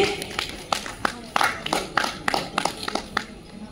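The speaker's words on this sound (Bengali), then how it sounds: "একটু হাততালি চাই সকলের কাছে।" An audience at a Bengali award ceremony gives scattered, uneven applause, with distinct individual claps that come and go over a few seconds, along with some background voices.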